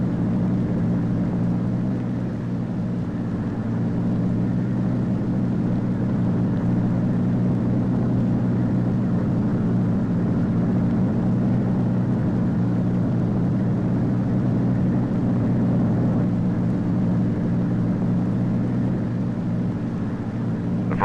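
A Convair delta-wing jet aircraft, developed with the Air Force and NACA, roars loudly and steadily with a constant low engine drone through takeoff and flight and no voices.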